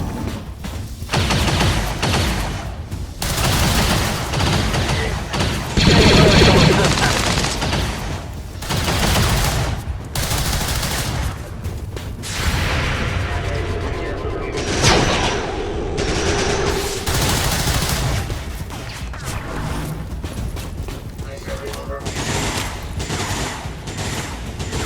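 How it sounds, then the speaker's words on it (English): Heavy gunfire fills a firefight in XCOM 2, with repeated bursts and volleys of shots and some booms, loud and dense throughout with no speech over it. "Taking fire!"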